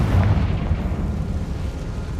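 A deep, rumbling blast erupts from the Confringo spell in a video game, a heavy boom that rolls on as a dense low roar without fading through the short moment.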